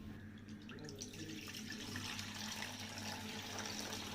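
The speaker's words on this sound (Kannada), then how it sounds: "ಈ ನೀರು ಮಜ್ಜಿಗೆನ ಈ ಪಾತ್ರೆ ಒಳಗೆ ಹಾಕ್ಕೊಳ್ತಾ ಇದ್ದೀನಿ" Diluted buttermilk is poured into a vessel, giving a soft, steady liquid gush and splash that stays faint and continuous throughout, with no voices.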